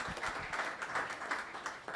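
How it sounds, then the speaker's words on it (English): An audience applauds volunteers at a startup showcase event, with steady, dense clapping across the whole stretch at moderate distance and no talk over it. "let's give a round of applause to all of our volunteers"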